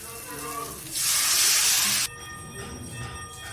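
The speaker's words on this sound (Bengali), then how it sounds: "মশলাটা কষানো হয়ে গেছে, এবার জল দিয়ে দেবো" Water poured into sautéed spice paste with tomato for a pomfret fish curry: a loud, broad hissing rush bursts up for about a second, then cuts off abruptly, leaving a quieter bubbling sizzle.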